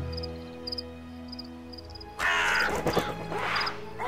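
A raven in the video game Märchenmysterien caws a few times close up, harsh and loud, after a quieter stretch of game ambience with tinkling notes.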